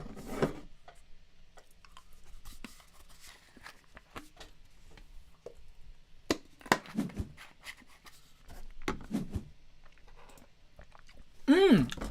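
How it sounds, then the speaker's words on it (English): Someone chews food with soft, irregular clicks and mouth noises, partly under intermittent speech, during live commentary on a Carcassonne board game final. "If it sounds like I'm chewing while I'm talking, it's because I am."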